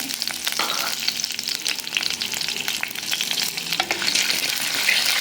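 Mustard seeds, cumin and fenugreek splutter in hot oil, a loud, dense crackle of rapid pops and sizzling that builds slightly toward the end, with no talking.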